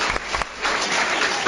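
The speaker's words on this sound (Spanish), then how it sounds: "Un aplauso para ellos también." A short burst of applause for the student interviewers at a school radio broadcast, dense close clapping filling the whole moment with no speech over it.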